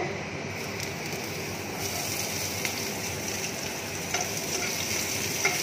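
Chopped onion frying in a pan, a steady close sizzle and hiss that runs without a break, loud and even throughout.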